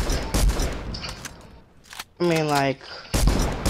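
Fortnite gunfire plays as bursts of rapid shots between lively talk from players, loud and close, with a stretch of electronic game tones in the middle.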